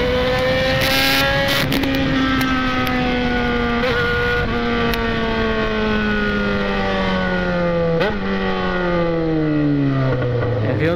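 Yamaha XJ motorcycle with a straight-pipe exhaust revving hard in a town centre, a loud, close, raw engine roar rising and falling in pitch, fairly continuous for the full stretch.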